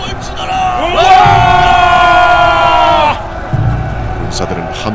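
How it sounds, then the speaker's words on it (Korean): Ancient Goguryeo soldiers let out a massed battle cry as a dramatized audiobook sound effect. Many voices rise in pitch together into one loud, sustained roar for about two seconds, then drop away to a murmur. "군사들은 함성을 지르며 해결리에 이르는 산주위를 에워싸며 포위망을 좁혀갔다."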